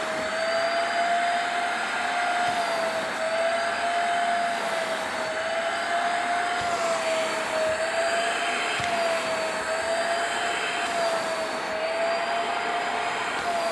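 A vacuum cleaner runs steadily and loudly across a wet surface, its constant roar carrying a sustained high whine that holds for the whole stretch with no talking.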